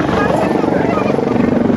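A nearby helicopter produces a steady, rapid rotor thump over a continuous engine whine. Faint voices sound beneath the loud drone.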